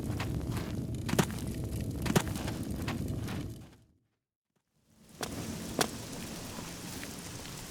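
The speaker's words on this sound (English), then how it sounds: "Rain is thick as milk." Steady rain from a rain mod in the video game Oblivion, a dense hiss with a few sharper drops, cutting out to near silence for about a second before resuming.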